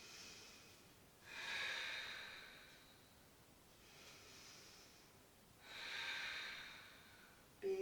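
Deep breathing during a yoga session: two slow, airy breaths, each rising and fading over a couple of seconds with a softer one between, close and quiet, with no talk.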